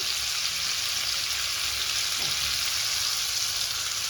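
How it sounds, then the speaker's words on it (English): Liver and onions braising in gravy in a pan, Jamaican style, giving a steady, even bubbling sizzle that holds at a constant level throughout, close by with no talking. "I'm just going to stew down, braise down a little bit"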